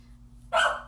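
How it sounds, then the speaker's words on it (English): A dog gives a single sharp bark indoors, sudden and fairly close, over a low steady background hum. "Please ignore my dog."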